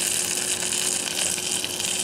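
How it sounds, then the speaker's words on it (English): Homemade spring rolls and egg rolls sizzle and crackle steadily in hot oil, a dense continuous hiss close by, with no voices. "hear the sizzle? Hear the sizzle?"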